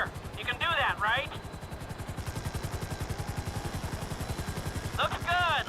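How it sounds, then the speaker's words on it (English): A hovering helicopter in the GTA V video game beats with steady, rapid rotor chop throughout, close and loud, while voices talk over it at the start and the end. "Just hold the chopper here."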